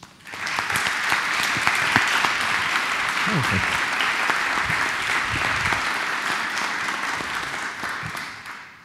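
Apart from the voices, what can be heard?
audience applause at quantum computer inauguration ceremony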